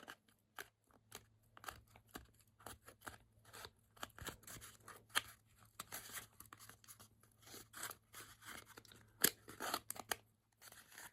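Scissors snipping slits into felt for a lynx mask, a long run of small, crisp, irregular cuts and rustles close up, fairly quiet, no talking.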